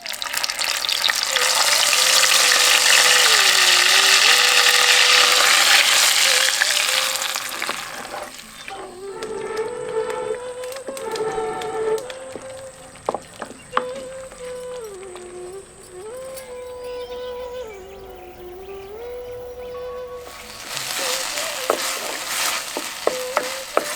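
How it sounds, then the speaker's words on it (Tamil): Ground masala paste sizzles loudly in three spoons of hot oil for street-style masala poori, with bursts of intense frying at the start and end and quieter stirring and scraping in between, no talk. "இப்ப 3 தேக்கரண்டி எண்ணெயில அரைச்சு வச்சிருந்த மசாலாக்களை சேர்த்து நல்லா வதக்க ஆரம்பிச்சிருவோம்"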